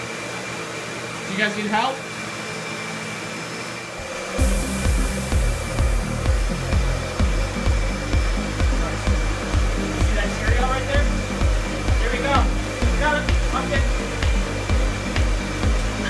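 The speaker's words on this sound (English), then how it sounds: "Are you guys vacuuming?" A household vacuum cleaner starts up partway through and keeps a loud, steady whine with pulsing motor rhythm in a home where kids are being taught to vacuum. Children's and an adult's voices talk over it.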